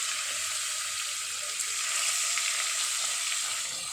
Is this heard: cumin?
yes